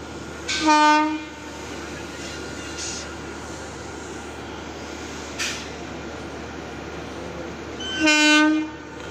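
A train on the Howrah rail route arrives, sounding two loud horn blasts several seconds apart over a constant rumble of rolling wheels and track noise.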